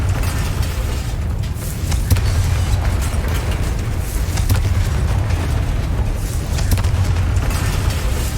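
Confringo fire spell from Hogwarts Legacy erupting in a sustained, booming blast, with deep rumbling and crackling bursts that carry on steadily throughout.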